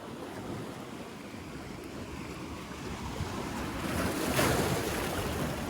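Ocean waves wash onto a Florida beach at Briny Breezes, a steady soft roar that swells louder toward the end, with wind buffeting the microphone.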